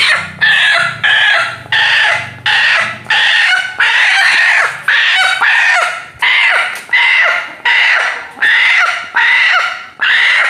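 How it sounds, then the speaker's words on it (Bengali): At a village home's chicken coop, a rooster crows loudly and repeatedly up close, about a dozen harsh bursts in steady rhythm, with hens clucking softly between the calls. "এটা মনে হয় কুচের মোরগ।"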